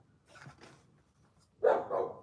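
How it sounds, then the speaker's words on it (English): A dog barks from outside, heard as one or two faint, distant barks followed by a louder bark near the end, with quiet pauses between. "Who the hell Evie barking at?"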